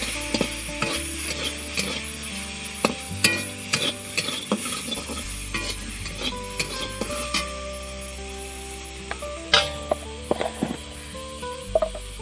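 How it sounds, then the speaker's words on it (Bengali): Bitter gourd frying in hot oil in a pan, with a continuous sizzle broken by repeated scraping and clanking of a utensil against the pan, close and fairly loud. "তেল দিয়ে দিলাম, এবার এই উচ্ছেগুলো দিয়ে দেবো।"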